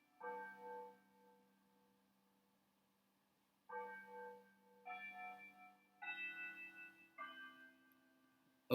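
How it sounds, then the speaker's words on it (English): Bell strikes ring out in a quiet classroom setting, a few clear resonant tones with long humming decays, one early stroke followed after a pause by four more in quick succession. "the bell is to give you time to think about your story"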